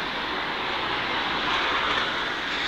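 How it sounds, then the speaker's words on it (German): A subway train rumbles past in a continuous, loud roar with a broad hiss that swells slightly toward the end, close by with no voices. "Da fährt die nächste U-Bahn."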